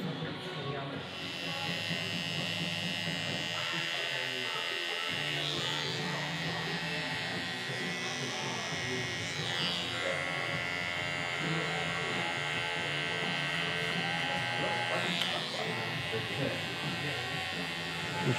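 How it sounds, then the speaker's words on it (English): Electric trimmer buzzing steadily and close while cutting loose beard hairs off the side of a customer's face in a barbershop, continuous hum with slight changes as it moves. "we're gonna do is literally just trim all these loose hairs off the side"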